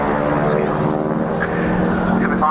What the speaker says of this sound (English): this aeroplane coming in for its final pass before departing, the Nordheim Harvard 2B